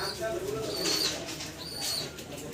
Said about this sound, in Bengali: জি ব্ল্যাক এক পেয়ার মুসালদাম কবুতর দেখাচ্ছি, রানিং পেয়ার, ডিম বাচ্চা করা।